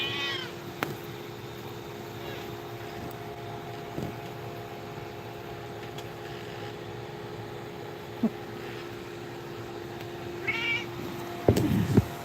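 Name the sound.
cat meowing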